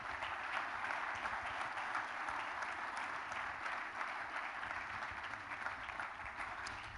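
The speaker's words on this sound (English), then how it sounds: "Round of applause." Steady audience applause at a sport summit, dense and even for about seven seconds at a moderate, slightly distant level, with no talk over it.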